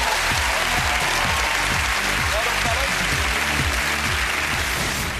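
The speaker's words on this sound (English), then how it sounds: "So give a big round of applause" Sustained audience applause and cheering after a dance act's performance, a dense wash of clapping over steady musical beats continuing throughout, with crowd noise loud and close.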